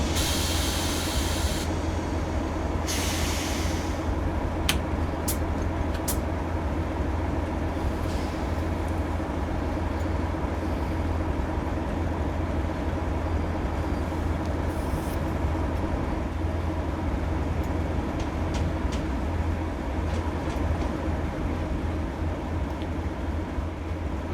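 Virgin Class 47 diesel locomotive in Train Simulator, a steady low engine drone and rolling rumble held throughout with a few brief hissing bursts, loud and continuous with no talk.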